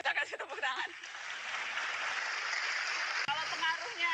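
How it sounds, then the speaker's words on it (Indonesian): Audience applause at a talk or interview, a steady broadband wash of clapping lasting a few seconds, with a voice speaking over the start and again near the end. "Kita kasih tepuk tangan."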